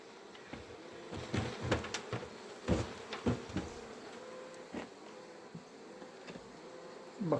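Agitated honeybees at a hive buzz close by in spring, their wings whirring in uneven bursts and swells that rise and fall irregularly.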